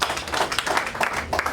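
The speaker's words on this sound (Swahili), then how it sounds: "tumuhuri makofi mega" Audience applause at a Kikuyu gathering, a dense irregular patter of many hands clapping close by at steady loudness for about a second and a half.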